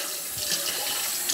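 Tap water runs steadily into a sink while a steam juicer kettle is rinsed out, a close, continuous splashing rush.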